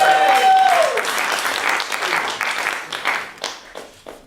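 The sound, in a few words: audience applause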